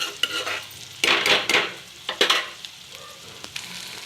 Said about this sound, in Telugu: రొయ్య పొట్టుని కూడా చాలా బాగా ఫ్రై చేయాలండి